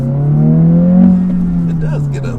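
A Honda Civic Si engine drones steadily on a test drive, its pitch swelling slightly as revs climb toward 5,000 RPM, then easing back, close and loud inside the cabin.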